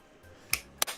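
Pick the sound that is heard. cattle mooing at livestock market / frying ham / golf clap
golf clap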